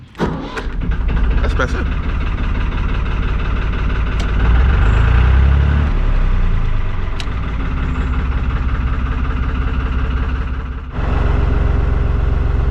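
A narrowboat diesel engine starts early in the morning and settles into a steady low idle, with a brief surge midway and a few words spoken over it.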